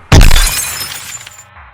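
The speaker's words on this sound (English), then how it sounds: "a large snapping noise erupted, followed by the sound of glass shattering" A loud, sharp snap bursts out and turns at once into shattering glass, one close crash whose scattered fragments ring and die away over about a second.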